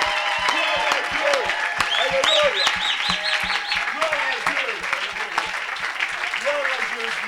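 A church congregation claps in a rhythmic, steady beat while a preacher speaks loudly over them in French, the applause continuous and close.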